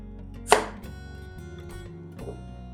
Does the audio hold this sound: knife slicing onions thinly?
yes